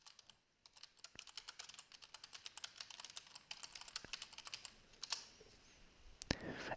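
Steady typing on a computer keyboard, a dense run of quick key clicks with a few sharper taps and a louder clack near the end, close and without talk.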